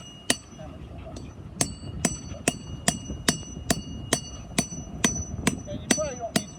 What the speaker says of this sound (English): I'll just start hammering away.